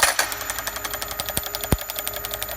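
A magneto test bench motor runs at about 350 RPM, giving a steady rapid mechanical clatter with regular pulsing beats and a few sharper snaps, close and continuous throughout.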